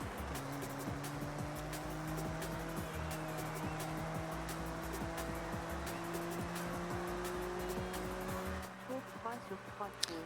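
A car drifts in the racing game Forza Horizon 6, its engine tone holding steady while tire squeal and skid noise run beneath. The whole sound is faint and sits under a voice talking.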